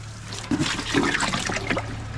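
Water gushes and splashes loudly into a container on a farm, a continuous pouring rush with a low hum beneath.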